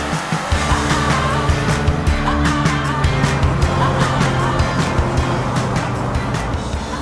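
A 2016 Subaru WRX Premium with a Sports Lineartronic CVT driving, its engine hum and road noise steady and close throughout, with no voices.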